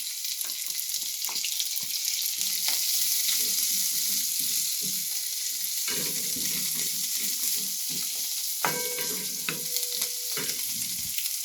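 Onion frying in a pan while making poha, a constant sizzling hiss with intermittent stirring clicks and scrapes, close and moderately quiet, no voices.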